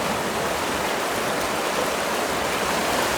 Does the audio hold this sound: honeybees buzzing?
no